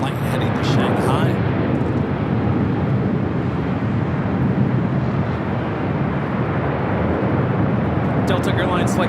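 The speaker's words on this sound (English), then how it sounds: "Western Global Airlines Queen touching down on 25 left." A Western Global Airlines Boeing 747 touches down on runway 25 left at Los Angeles airport, making a loud, broad, steady roar with wind buffeting. A voice talks briefly at the start and again near the end.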